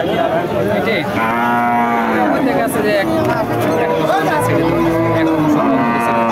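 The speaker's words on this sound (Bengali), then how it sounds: "কতগুলো আছে গরু? আজকে 4টা।" Cattle at a busy livestock market moo loudly and repeatedly at close range, long drawn-out calls rising over a constant hubbub of crowd chatter, while people talk nearby.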